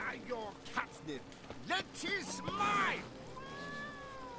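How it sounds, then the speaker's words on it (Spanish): A cat meows repeatedly in The Witcher 3: Blood and Wine, its rising and falling cries coming in several short bursts, fairly close, with a voice talking over the game sounds. "cojones ha sido eso el gato?"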